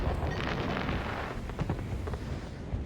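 Fireworks going off in a Hitman video game during a competitive match, a dense continuous barrage of rumbling booms and crackling bursts, loud and sustained throughout without pauses.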